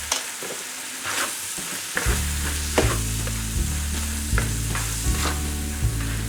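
Paella mix stirred into seafood paella sizzling in the pan, with a steady loud frying hiss and repeated scraping stirs of the spoon, close up and with no talking.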